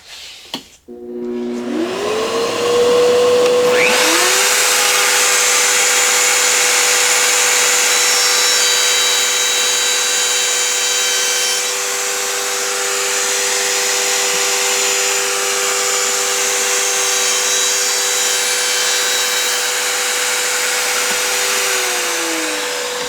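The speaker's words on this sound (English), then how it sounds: "I'll come all the way across, and then run across the bottom to cut the other side of this sliding dovetail" A power tool runs through wood cutting a sliding dovetail for a step stool. It spins up after a brief clunk into a loud, sustained whining drone that holds steady for about twenty seconds with no talk.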